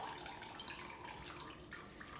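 Homemade milk drains through a strainer, a faint, soft trickle and patter of liquid that stays steady and quiet over a couple of seconds.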